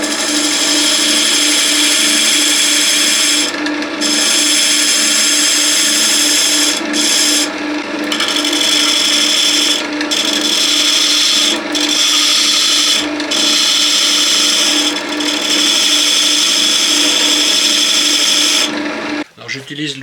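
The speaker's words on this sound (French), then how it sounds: "J'utilise l'outil pointe pour faire la rainure" A wood lathe spins a workpiece for a pencil pot while a pointed tool cuts a groove. It makes a loud, steady whirring hum with a scraping edge, broken by several brief drops as the cutting pauses, and a clatter at the end.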